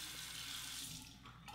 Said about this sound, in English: wet this under the cold water